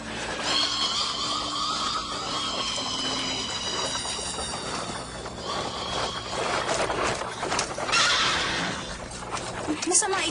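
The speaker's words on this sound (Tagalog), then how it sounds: "Masyado pong natatakot ang kabayo." A frightened horse neighs repeatedly in shrill, wavering whinnies under and between animated speech, with rumbling movement in the background.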